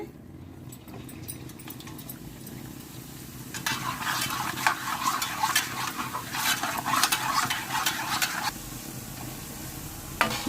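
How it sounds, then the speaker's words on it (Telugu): Kara boondi batter pressed through a perforated boondi ladle into hot frying oil, a steady close sizzle that swells loud partway through and holds with crackling bubbling, with faint ladle scraping beforehand. "బూందీ గరిటెలో వేసుకుందాము ఒక్కొక్క గరిట వేసుకుందాము బాగా కిందకి పెట్టి వేసుకోవాలండి"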